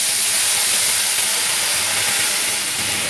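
Water poured into a hot pan of roasted moong dal sends up a loud, broad steam hiss that holds steady and close for the whole moment.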